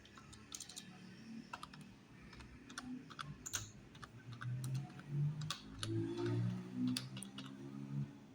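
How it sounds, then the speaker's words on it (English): Quick, uneven keystrokes clatter on a computer keyboard, nearby, with a low hum building underneath in the second half. "you can start by typing anything here"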